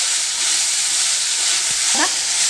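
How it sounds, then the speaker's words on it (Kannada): Vegetables fry in oil in a pan for a lunch box dish, giving a steady, close, bright sizzling hiss with a faint stir or clink near the end and no talking. "ನಾನು ಒಂದು ಐದು ನಿಮಿಷ ಇದನ್ನು ಎಣ್ಣೆಯಲ್ಲಿ ಫ್ರೈ ಮಾಡ್ಕೊಳ್ತೀನಿ"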